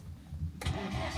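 Diesel car engine with glow plugs cranking and catching, a low rhythmic turning-over rumble that abruptly fires into a fuller running sound, close and brief.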